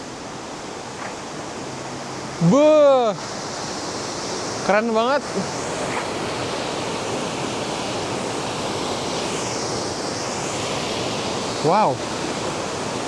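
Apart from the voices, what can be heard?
waterfall in the mountains of southern Poland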